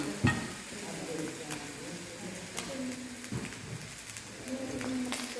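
Fish and chicken frying in hot oil give a steady close sizzle with intermittent stirring clatter and scraping, loud and continuous throughout.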